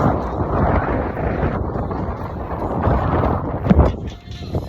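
Steady outdoor wind buffets the microphone on a morning walk, a broad continuous rush that swells slightly near the end, with no voices.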